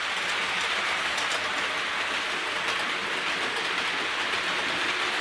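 Hornby Merchant Navy class model locomotive hauling ten Southern coaches, a dense continuous rumbling rattle of wheels on track, steady and close throughout.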